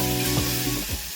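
Green chili, pandan and curry leaves sizzle loudly in hot oil in a pan while being stirred, a steady close frying hiss broken by a few scraping strokes.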